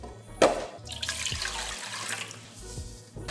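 Raw shrimp are washed by hand in a bowl of salt water solution, with close sloshing, splashing and trickling water, a sharp splash at the start and bursts of swishing, no voices.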